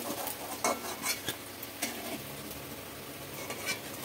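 Chhana kofta balls fry in hot oil with a soft continuous sizzle, while a spoon or ladle stirs and clinks against the pan in scattered bursts; no one speaks.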